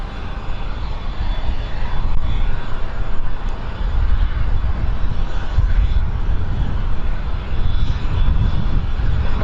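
Aircraft engines run at London City Airport, with a loud, steady low roar and hum that holds without pause and sits close and constant.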